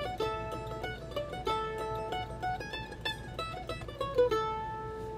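Fiddle playing the opening A part phrase of the old-time tune Chinquapin Hunting, a lively run of bowed notes in a steady rhythm with the odd added beat, close and clear with no talking.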